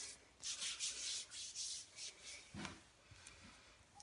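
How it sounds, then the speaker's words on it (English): Hands rubbing self-tanning lotion into skin in circular motions, soft, faint swishing strokes that repeat in a loose rhythm, close up and alone. "And then you just rub it in with your hands,"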